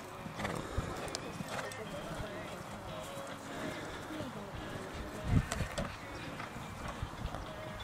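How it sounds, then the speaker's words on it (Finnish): Horse hooves clip-clop at an outdoor show jumping event in Hyvinkää, steady irregular footfalls under continuous crowd murmur and nearby talk, with a brief louder thump midway and bird calls in the background. "Tää on meidän hevonen."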